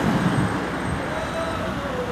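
Road traffic at the Headingley Lane and Bainbrigge Road junction idles and pulls away, a close, loud engine rumble that swells at the start, then settles into a steady hum with a faint rising whine.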